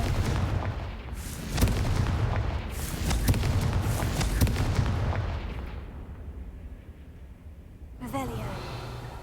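Confringo blast spells in the Hogwarts Legacy video game, a run of thudding explosive bursts close together, fading into a quieter tail while someone speaks briefly near the end.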